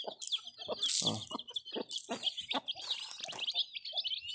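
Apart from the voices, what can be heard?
chicken with chicks clucking and chirping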